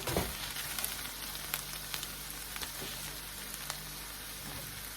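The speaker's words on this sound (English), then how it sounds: "now we're gonna add our ground turkey" Ground turkey sizzles and fries in a hot pan for chili, a steady close crackling hiss with scattered pops, no voices.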